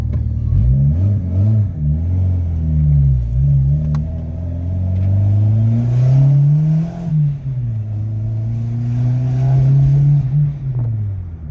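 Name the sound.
Honda Civic EM2 car accelerating on a test drive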